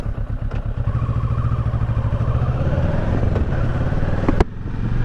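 A 2018 Kawasaki Versys 650 ABS Tourer motorcycle engine runs steadily while riding, droning loudly up close with some rattling and a sharp clack near the end.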